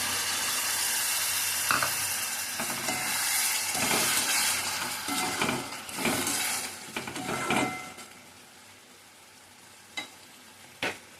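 Whisked sour yogurt sizzling in hot oil for palak chicken, a loud steady frying hiss with intermittent stirring scrapes that fades toward the end, leaving a few sharp clinks.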